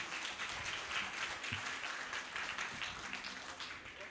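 An audience at a Hindi kavi sammelan poetry gathering breaks into sustained applause, a dense steady wash of many hands clapping from a distance with no voices over it.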